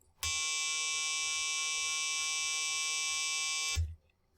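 A PIC microcontroller board emits a steady electronic tone near 155 Hz, a rich buzzing beep that starts abruptly, holds evenly for about three and a half seconds, then cuts off, with soft button clicks at each end.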